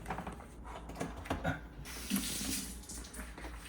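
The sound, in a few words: water running while rinsing countertop ice maker parts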